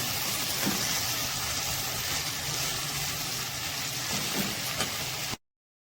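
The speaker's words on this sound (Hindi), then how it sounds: "अब मैंने इसे अच्छे से भून लेना है" Spicy mashed potato bharta seasoned with garam masala being fried in a pan, giving a steady, fairly loud sizzle and crackle that runs unbroken until it stops abruptly near the end, with no voices.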